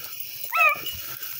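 A single dog's short whining yelp or yip, close and fairly loud, lasting a fraction of a second against quiet background.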